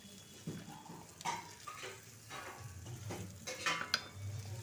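Kashmiri chili powder is stirred in a frying pan, with a spatula scraping and tapping against the metal over a faint low sizzle, close and fairly quiet, with no talking.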